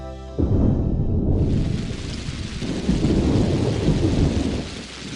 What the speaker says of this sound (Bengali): এ কি অলক্ষণে বৃষ্টি শুরু হলো